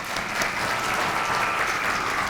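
Steady audience applause fills a lecture hall as presenters are welcomed to a talk on populism and social media, a dense even clatter of many hands with no voices over it.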